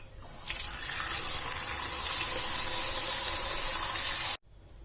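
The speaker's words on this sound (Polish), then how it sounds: "dolewam do tego wody do poziomu, tak żeby nie, nie przekraczało poziomu warzyw" Water pours steadily over vegetables for gazpacho for about four seconds in a continuous gushing stream, then stops abruptly.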